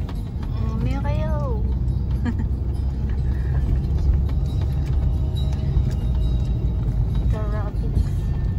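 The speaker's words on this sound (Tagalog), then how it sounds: "Traffic." Steady road traffic rumbles on with a constant low engine drone and passing vehicles, loud and close throughout, while voices chatter over the top.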